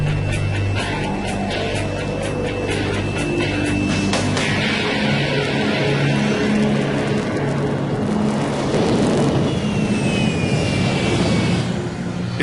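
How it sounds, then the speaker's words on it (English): A taxi cab is blasted by the jet wash from a large jet engine: loud, continuous broadband roar of rushing exhaust with a steady engine whine, sustained and close throughout with no speech. "the cab will take its chances running the gauntlet through the jet wash"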